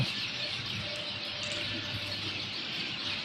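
Birds chirp faintly in the distance over a steady outdoor hiss, with occasional soft cooing, at a bird sanctuary.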